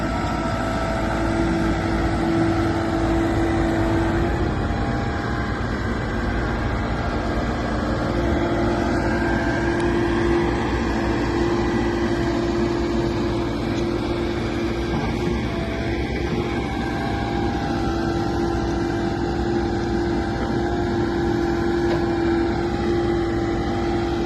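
A 2003 JCB 214 backhoe loader with pilot controls in the cab runs steadily, its diesel engine a constant, even drone with a steady low hum throughout, no speech.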